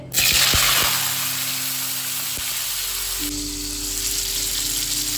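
Steady, loud hiss of hot white cooking oil frying, with a sharp crackle at the start and a few light knocks against the pan. The sizzle carries on alone and close up, with no one talking.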